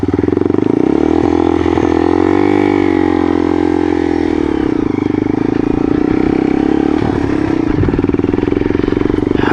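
A Yamaha XT225 dual-sport motorcycle geared down one tooth on the front sprocket rides along a road, its single-cylinder engine droning steadily and loud up close, with wind buffeting and slight shifts in pitch.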